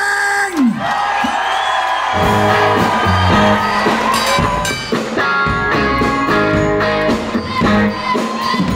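A festival crowd cheering and whooping loudly with music going on, a dense, continuous roar of voices and shouts that holds throughout at close range.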